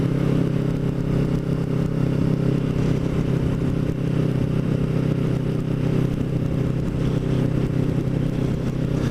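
Continuous steady engine drone of a Kawasaki Ninja motorcycle on the move, loud and close, with wind rumble and no speech.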